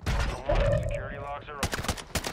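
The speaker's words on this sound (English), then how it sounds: "it's a burst fire." Burst-fire gunshots in a first-person shooter video game: after a stretch of talk, several quick, loud cracks come in tight clusters, close and sharp.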